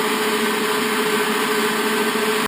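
Electric meat grinder running a second grind of bear meat for sausage, a loud steady motor whine with no change in pitch or level, heard close and alone.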